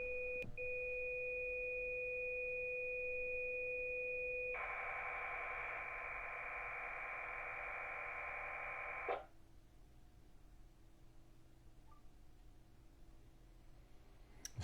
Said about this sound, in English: we should get a notification that we've been pinged